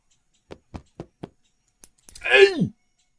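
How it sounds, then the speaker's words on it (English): Four quick, sharp knocks on a window come in an even rhythm, followed after a short pause by a brief loud vocal outburst. "Was he knocking at my fucking window?"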